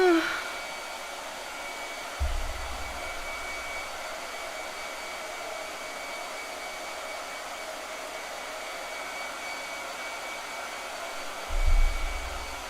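A blow dryer runs steadily throughout as a quiet, even whooshing drone, with a couple of brief low thumps near the start and end and no voices.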